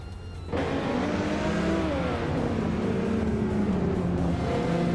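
Porsche 911 GT3 race cars tearing around a racing circuit, engines roaring loud and steady after a brief quiet opening, pitch rising and falling as they accelerate and shift.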